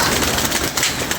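Pigeons coo continuously after a pair escaped through an open door, soft throaty cooing close by over a steady rustling background, with no talking.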